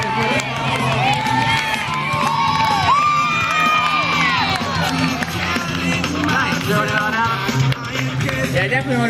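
A crowd cheers, whoops and shouts at a BMX bike air show, loud and continuous, with children's high voices and excited yells rising and falling throughout.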